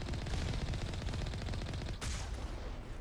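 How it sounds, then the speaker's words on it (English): Video game turrets fire at the player in a dense, rapid, continuous automatic stream, fairly quiet in the mix, with a brief sharp impact near the end. "The Gethins are shooting us with the bloody turrets."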